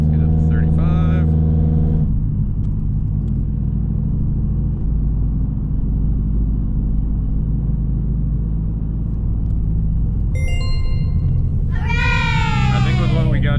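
A Subaru Legacy GT engine pulls loudly and steadily under acceleration on a tuning drive, a constant heavy drone from inside the car, with brief higher whining tones near the start and end.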